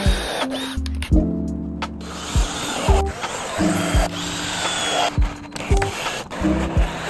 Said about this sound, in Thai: โดยเราจะเจาะสว่านนำไปก่อนรอค่อยไขสกูตัวยาวตามลงไป